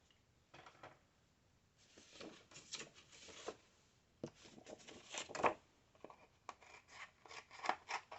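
Scissors snip and trim paper for a scrapbook layout, quiet irregular cuts and rustles close by, coming in uneven clusters.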